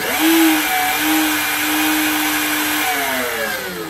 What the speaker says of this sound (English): Now we'll go here and we'll click on spindle on.